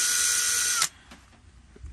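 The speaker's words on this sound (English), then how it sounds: "we countersink them first with a countersink bit" A power drill with a countersink bit whines steadily as it bores screw holes in beehive box wood, then stops abruptly partway through, leaving faint handling clatter.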